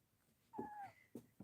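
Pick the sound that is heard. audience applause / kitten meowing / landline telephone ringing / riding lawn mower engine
kitten meowing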